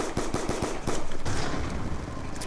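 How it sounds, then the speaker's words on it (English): A Call of Duty sentry gun firing: a rapid, regular burst of automatic shots, fairly loud and close, followed by a denser sustained stretch of gunfire. "my sentry gun is wrecking"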